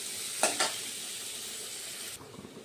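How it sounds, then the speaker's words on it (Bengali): Onions sizzling in a pan for a Bengali common carp kalia, a quiet constant frying hiss with two quick spatula scrapes early on before the sizzle drops away near the end. "এই পেঁয়াজগুলোকে আমি একটু লাল লাল করে ভেজে নেব।"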